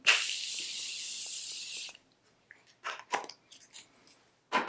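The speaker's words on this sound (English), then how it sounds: "let me spray my face with my Morphe setting spray" A steady aerosol spray of makeup setting spray hisses for about two seconds up close onto a face, followed by soft rustling and small handling noises.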